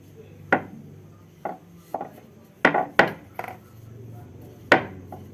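Khaja dough being lightly rolled out with a rolling pin, heard as a series of separate knocks and scrapes against the board at an uneven rhythm, close and fairly quiet.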